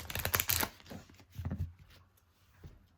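Tarot cards shuffled in two quick riffling bursts, close and soft, with a faint rustle and a light tap in between.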